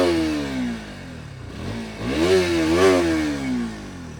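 A KTM RC 200 GP Edition motorcycle engine revs up and down, a close, loud buzzing tone that dips, then climbs again in a couple of throttle blips before easing off.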